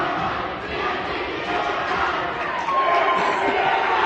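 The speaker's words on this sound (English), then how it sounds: "I'm not even going to compete with the crowds here." Dense crowd noise fills a high school volleyball gym, a steady roar of voices and cheering that swells slightly near the end, with faint squeaks and thuds of play underneath.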